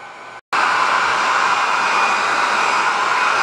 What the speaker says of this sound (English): I wasn't getting what I wanted on low on the hairdryer, so I had to step it up to high